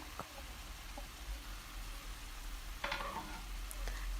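Zucchini frying in a pan, a soft steady sizzle with a few scattered clicks and one brief stirring scrape, faint and close.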